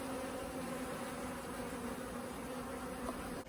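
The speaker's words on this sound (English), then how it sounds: "There's loads of bees coming in there." Honey bees and drones buzz in a dense, continuous drone at a busy hive entrance, steady and moderately quiet with no talk.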